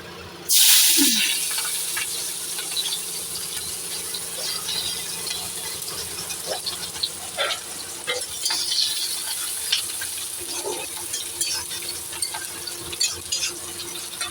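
Chopped ginger, garlic and onion hit hot oil in a wok, bursting into a loud hiss at once, then settling into a continuous sizzle with occasional clinks and stirring scrapes, close up with no talking.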